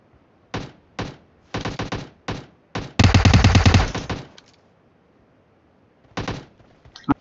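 Gunfire in the video game PUBG, with short bursts of shots and then a dense rapid volley, followed by a pause and a couple more brief bursts, loud and close.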